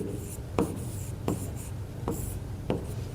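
Chalk or pen writing on a board during a physics lesson on the mirror formula: steady scratching strokes with a sharp tap roughly every two-thirds of a second, close and alone.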